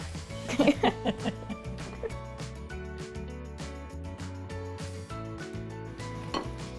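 Miso almond butter cookie dough being folded in a bowl, a quiet run of clinks and scrapes of utensil against the bowl, denser at the start, with background music and light laughter underneath.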